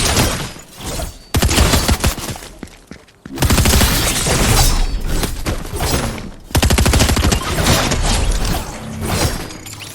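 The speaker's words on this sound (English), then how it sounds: "Who's got a gun and is shooting at me?" Gunfire aimed at the player in Fortnite, loud dense bursts of rapid shots lasting several seconds each, broken by brief gaps, with shattering sounds mixed in.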